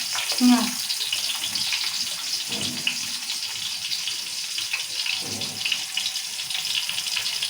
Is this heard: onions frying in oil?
yes